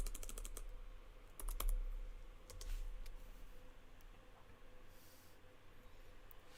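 Bursts of rapid computer keyboard typing, clustered clicks near the start and again around the middle, close and fairly quiet over a low room hum, with no talking.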